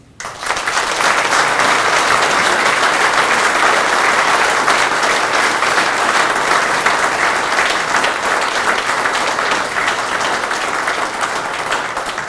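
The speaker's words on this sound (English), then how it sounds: "If we could give him one more round of applause" Sustained, loud applause from an audience at a November 2021 veterans history ceremony, a dense wash of clapping that holds steady for over ten seconds.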